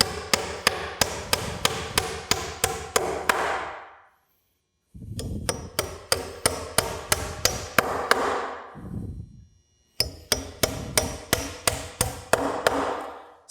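Nails are hammered into a deck rim joist in three bursts of sharp, evenly spaced hammer blows, each run of strikes building in pitch as the nail drives home, separated by short pauses.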